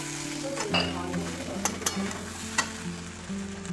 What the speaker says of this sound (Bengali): এবার দেখুন এতে আমরা একটু আদা রসুনের পেস্ট দিয়ে দিলাম এটাকে আমি নাড়িয়ে নিচ্ছি ভালো করে